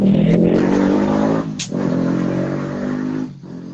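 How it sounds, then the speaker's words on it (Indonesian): Motorcycle passing by on a road, a loud steady engine roar that dips briefly, rises again and fades near the end, heard alone without talk. "Ada motor lagi."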